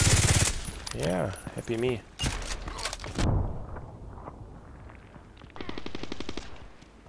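Rapid bursts of Glock 18 automatic fire in the shooter game Contract Wars, loud crackling volleys with short pauses between them, someone briefly talking over the shots.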